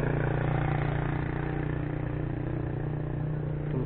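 A Yamaha Vixion R motorcycle engine idles steadily up close, a continuous even rumble with a low hum and no speech, heard with a worn fuel pump.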